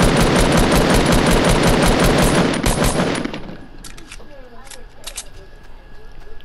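Rapid automatic gunfire in a video game rattles loud and continuous for about three seconds, then cuts off, leaving quieter scattered shots and game ambience with someone speaking.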